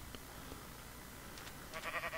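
Sheep bleats from the video game Minecraft, a few short faint calls rising near the end over a quiet, noisy background.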